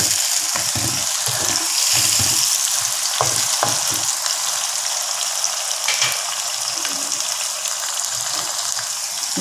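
Tomatoes fry in a pan for a dried salted fish and broad bean curry, giving a bright, dense sizzle with bursts of bubbling and a few spoon clicks, close and without speech.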